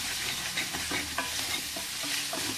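Curry with turmeric, rock salt and ginger garlic paste sizzles steadily in a pan while a spoon stirs through it in close, scraping strokes.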